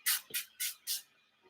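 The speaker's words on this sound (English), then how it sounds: "It's my lavender spray." A lavender spray bottle gives four quick, close hissing spritzes in rapid succession, each a short airy burst, followed by quiet.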